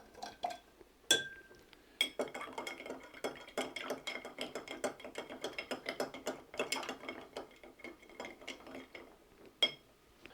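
A spoon stirring a tiki old fashioned cocktail in a glass, with rapid, continuous clinking of ice against the glass, sharp and close, and a few louder knocks at the start and end.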